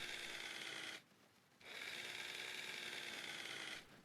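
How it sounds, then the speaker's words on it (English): In the video game Gold Rush, a buzzing, whirring power tool unscrews wheel bolts. It comes as two long, steady bursts with a short, quieter pause between them. "right click, unscrew the 5 bolts"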